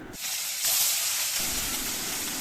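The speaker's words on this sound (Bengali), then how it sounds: "তেল দেওয়ার পরে মাছগুলো আমি একটু ভালো করে ভেজে নিচ্ছি" Rohu fish frying in hot oil in a pan, a loud continuous hissing sizzle that surges sharply a moment in and then settles into a steady spitting crackle.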